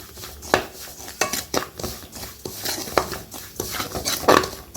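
Semolina (rava) roasting in a pan for kesari, with a spoon repeatedly scraping and clinking against the metal in an uneven rhythm, close and moderately loud.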